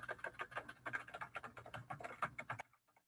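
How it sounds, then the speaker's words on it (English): Fingers type on a computer keyboard in a quick, uneven run of close, crisp key clicks for about two and a half seconds, then stop. "I'm going to type it in."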